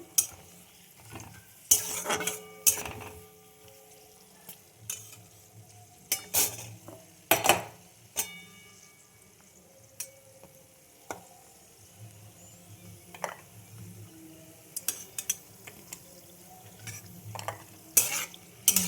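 Raisins lightly frying in a pan while a utensil stirs them, with repeated scraping and clinking strokes over a low, steady sizzle close by. No one speaks.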